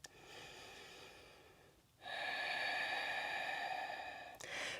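Slow, deep breaths during a yoga flow: a soft, long breath that fades out, then after a brief gap a stronger, airy inhale or exhale that lasts about two seconds before another breath begins, close and audible with no talking.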